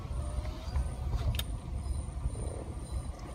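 A vehicle's brakes screech and grind in a driving video game, a low rumbling drone with a brief high squeal partway through, with no talk.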